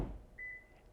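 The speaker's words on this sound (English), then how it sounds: "and they shut the door, it automatically locks" A 2024 Acura Integra Type S sounds a single short, fairly faint electronic tone as its door locks automatically after being shut, with a soft thud at the start and quiet surroundings otherwise.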